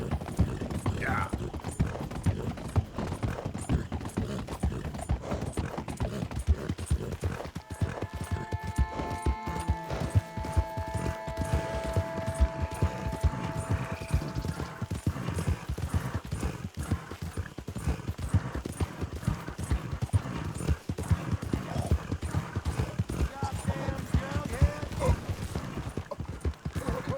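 Horse hooves clip-clop steadily and continuously in the video game Red Dead Redemption 2, with a mechanical whir partway through and faint ambient game sound.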